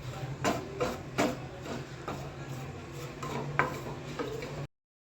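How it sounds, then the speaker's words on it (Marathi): Milk powder roasting in hot ghee in a pan, with steady scraping and stirring strokes against the metal at an irregular rhythm over a low continuous hiss, close and moderately loud. "मिल्क पावडर तुपामध्ये छान व्यवस्थित भाजून घ्यायची"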